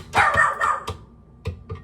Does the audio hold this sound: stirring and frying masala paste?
no